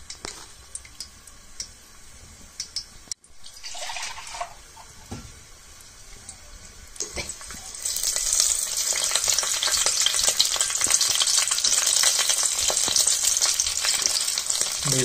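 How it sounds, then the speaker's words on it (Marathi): Garlic fries in tempering oil for a kokum kadhi, starting with quiet scattered crackles and light stirring before it swells into a loud, steady, close sizzle for the second half, with no talking. "लसूण टाकून घेतलं फोडणीला."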